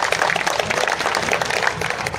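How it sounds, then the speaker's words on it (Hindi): Crowd applause at a BJP political rally at a Jatav mahapanchayat in Firozabad, a dense, steady wash of many hands clapping at close range that holds even and loud throughout. "अपने नेता को भी आशीर्वाद दे दीजिए ताली में।"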